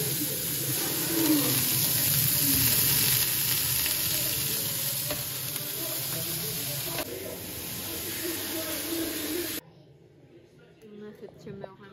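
Burger patties frying in a pan, a loud steady close sizzle and hiss that runs for about ten seconds before cutting off abruptly, leaving faint room sound.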